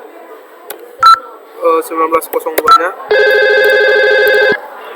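Telephone tones during a VoIP call test: a few separate beeps, then a burst of quick dialing tones and a long, loud steady ringback tone. Someone talks briefly in Indonesian between the tones.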